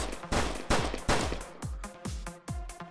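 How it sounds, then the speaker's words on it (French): Firecrackers explode in the VR fitness game Running Scared on Meta Quest, a rapid irregular string of sharp, loud cracks and pops, each with a short ringing decay. "Là, c'est sympa, ça va être les pétards."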